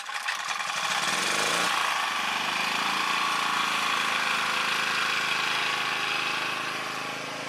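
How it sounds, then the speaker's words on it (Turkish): A generator engine runs steadily and loudly close by, a dense mechanical drone that starts up and holds throughout during outdoor work extracting wild rock honey. "Tekrardan bir jeneratör operasyonu."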